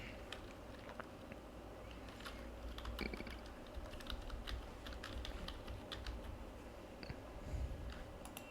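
Fingers tapping values on a computer keyboard, a quiet run of irregular clicks and keystrokes with small bursts and pauses, faint and close, with no speech.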